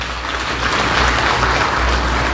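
Thick, continuous applause from a large crowd of women at a district women's gathering in Kamthi, a steady wash of clapping at fairly close range with no talking over it.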